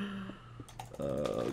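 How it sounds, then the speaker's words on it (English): A computer keyboard being typed on gives a quick burst of clicks and taps, fairly faint, set against a steady background tone and hum. "You hear me typing away over here."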